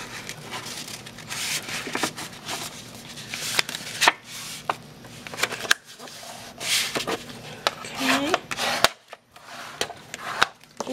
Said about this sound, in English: And then I'm just going to accordion fold it.